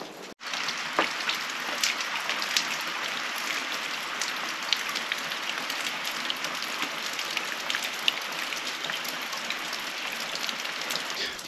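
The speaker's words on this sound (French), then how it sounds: "On vient de trouver refuge dans ce lavoir. C'est bienvenu parce que là il pleut." Steady rain falls outside an old stone wash-house in a restored village in the Haut Verdon, heard from under its shelter as a constant even patter with scattered sharper drops, no voices.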